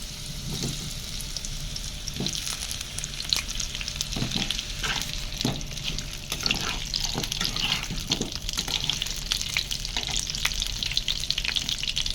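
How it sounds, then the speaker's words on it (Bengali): Potatoes fry in hot oil for biryani with a steady, close sizzle and crackle, broken by intermittent scraping stir strokes and faint clinks; no one speaks. "এই তেলেই আলুটা ভেজে নেবো একটু লাল লাল করে"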